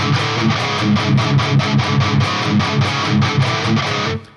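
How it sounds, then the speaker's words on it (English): Distorted electric guitar chugging palm-muted power chords in the tight rhythm part of a song from DMC5, loud, dense and driving with rapid repeated attacks, stopping sharply at the end. "you're palm muting it and chugging it a little bit more"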